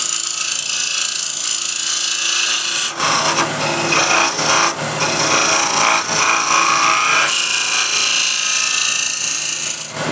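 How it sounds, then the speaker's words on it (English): A 25mm wide asymmetric curve scraper rasps steadily across a wooden kitchen piece in close, loud, continuous strokes, with a couple of short pauses and no talking. "This 25mm wide asymmetric curve scraper."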